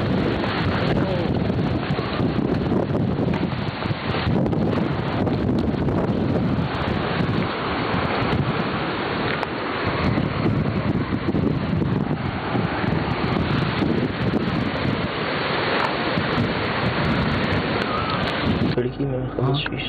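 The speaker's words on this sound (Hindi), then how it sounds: "तूफान आ गया" A storm at night around an old haveli that has been shut for forty years, with loud, steady wind roaring and buffeting the microphone throughout and voices faintly beneath.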